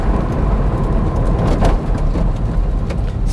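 Hail pelts down outside during a service of a Vauxhall VX220 2.2, a loud, dense, unbroken rattling roar that stays constant throughout.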